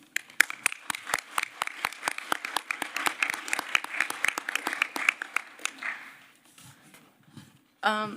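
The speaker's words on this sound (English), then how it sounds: "Please join me in a round of applause." Delegates at a conference session give a round of applause, individual hand claps clearly audible and fairly close, thinning out and fading toward the end before a voice begins speaking.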